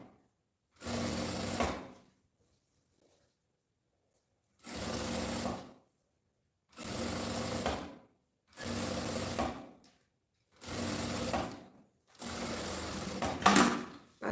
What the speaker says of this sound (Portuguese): Passa uma costura de segurança.